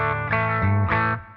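A Gibson SG through a silver Maton amp and Celestion Creamback speakers plays a clean electric guitar tone, a couple of sustained chords with light reverb, clear and up close.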